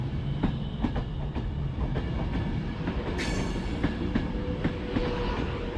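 A Pendolino train rolls by near Carlisle, with a rhythmic clatter of wheels over rail joints under a constant low rumble, and a brief metallic squeal midway.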